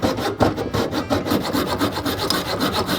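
A coping saw cutting wood in fast, even back-and-forth strokes, a steady rasping rhythm of about four strokes per second, close and loud with no talk.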